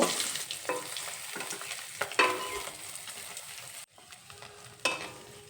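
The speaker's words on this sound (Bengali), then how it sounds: "মাছের এই সাইডটা ভাজা হওয়া পর্যন্ত অপেক্ষা করব" Parshe fish fry in hot oil, a close crackling sizzle with spits and pops that fades slightly, then drops out briefly before resuming.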